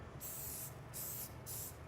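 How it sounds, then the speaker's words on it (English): Cooking spray misted onto baking items in three short hissing bursts at close range, each lasting about half a second, with no talking. "I'm spraying these pretty liberally."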